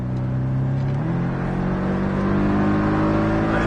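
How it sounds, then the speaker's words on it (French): Porsche Cayman accelerating on a race circuit, its engine droning loud and steady close by, the pitch dipping briefly at a gear change before climbing again under continuous power. "Et là, filet de gaz directement, on accélère."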